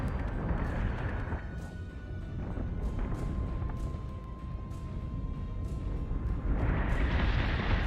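Space combat in the video game BSG: Deadlock, with dense rumbling explosions and booming fire that fill the whole stretch without pause, a low continuous roar punctuated by heavier blasts.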